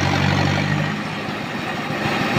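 Diesel tractor engine running, a steady low throbbing drone with dense rumble that holds evenly across the whole moment, no talk over it.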